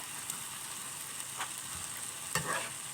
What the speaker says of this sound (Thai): มาผัดใส่ไข่ ไม่ต้องใส่หมูก็ได้นะ